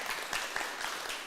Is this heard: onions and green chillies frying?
no